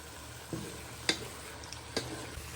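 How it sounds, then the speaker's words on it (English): Spices and chopped tomatoes stirred in a pan for a chicken and spinach saag, a few soft scrapes and clicks of the spoon over a low, steady sizzle. "we're just stirring in our spices and our chopped tomatoes, what we have chopped, to give flavour to the pan"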